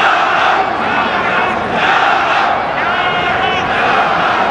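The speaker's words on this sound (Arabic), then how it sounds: "الجمهور المصري يقول يا رب" Massed Egyptian supporters chant in rising and falling waves ahead of a penalty kick in a youth Arab Cup semi-final against Senegal, loud and steady without a break.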